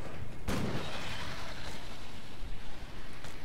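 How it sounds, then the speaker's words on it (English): A small area-of-effect flame explosion from Vengeful Flame in the action RPG Grim Dawn bursts out sharply near the start, then gives way to a low, rumbling wash of combat ambience. "when they hit me, I let out a little AoE explosion"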